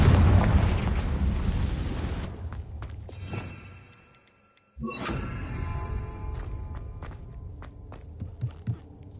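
Confringo explosive spell from Hogwarts Legacy: a loud, booming blast that rumbles and fades into near silence, then a second sharp burst with crackling debris and scattered thuds.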